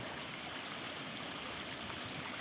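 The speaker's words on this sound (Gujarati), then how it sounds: "તો એટલું પાણી પડે વેડીની વાહે. તો આમ પાણી જાય છે" A continuous rush of water pouring out of a weir, steady and even, sounding like a flow spilling out at a distance.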